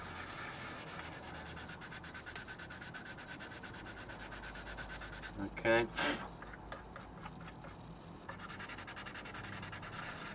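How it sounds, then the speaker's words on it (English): Sanding stick rubbing over a plastic 1/48 scale Junkers Ju 88 A-4 model kit, a steady close scratchy rasp in repeated short strokes, briefly pausing midway while a voice speaks a word. "Start to remove the scratches that you've done with the coarse sanding stick."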